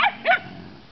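Puppies give two quick, sharp barks close by, a high yip followed a moment later by a second bark, then quiet.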